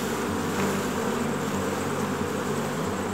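A swarm of honey bees shaken loose during a sugar roll check for varroa mites gives a dense, constant buzz, close and loud, with no voices.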